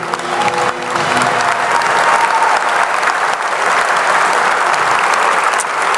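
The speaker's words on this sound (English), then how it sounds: "Please join us in a round of applause for 2025 honoree, Bill Stewart." Loud, sustained applause from a ceremony audience at the WVU Sports Hall of Fame enshrinement, a dense, even wash of clapping with no talk over it.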